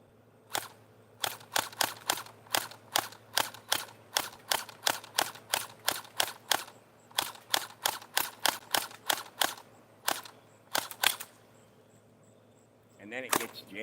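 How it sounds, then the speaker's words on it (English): An Orbeez gel-ball gun fires outdoors at flies on a sidewalk, a rapid run of sharp, evenly spaced snapping shots, about two per second, that pauses briefly and resumes before a short stutter near the end. "I've been sitting out here for the past couple of days shooting flies with a Orbeez gun"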